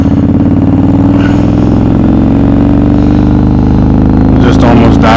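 Yamaha Roadstar 1600 cruiser motorcycle with its engine running rough and low, close and loud, as it nearly stalls, while a rider talks over the uneven idle thump.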